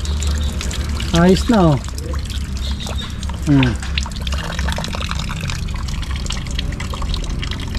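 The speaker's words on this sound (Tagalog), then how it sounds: "Ang ganda ng lusot ng tubig oh." Water runs steadily through a channel, a low continuous trickling wash under someone speaking briefly in Tagalog.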